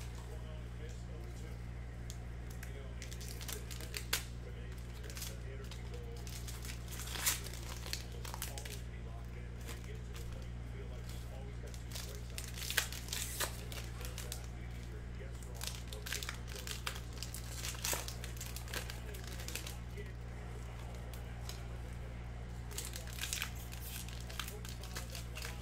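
Upper Deck Marvel Anime trading card pack wrappers are torn open and crinkled in repeated crackling bursts over a steady low hum, while a person talks throughout.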